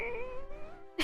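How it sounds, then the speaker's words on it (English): A big house cat gives a single drawn-out meow with a gliding pitch, close and fairly quiet, followed by a brief noisy burst at the end. "What are you meowing at me for"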